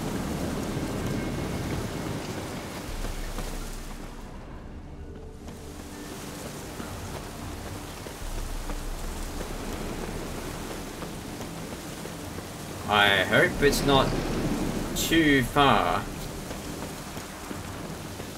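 Steady in-game rainfall in The Witcher 3 hisses continuously with a low rumbling undertone, and a voice talks briefly over it near the end.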